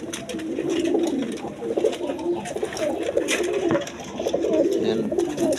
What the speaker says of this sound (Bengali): এইখানে এক পেয়ার মডার্না কবুতর আছে